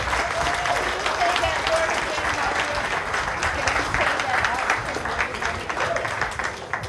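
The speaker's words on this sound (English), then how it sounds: "So give yourselves that applause." A church congregation at a one-year anniversary celebration applauds itself with broad, sustained clapping from many hands, loud and continuous, with voices mixed into the crowd noise.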